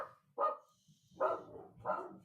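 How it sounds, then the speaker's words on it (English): Three distinct dog barks, spaced roughly evenly apart, moderately loud and slightly distant, with a faint low rumble between them. "You also have dogs barking."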